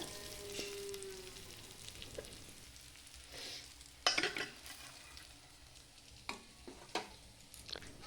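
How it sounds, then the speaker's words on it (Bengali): Fish head frying in hot oil, a soft continuous sizzle broken by several sharp spatters and cracks, the loudest burst near the middle and more scattered pops after. "দেখো ফাটছে তেলগুলো ছিট করছে"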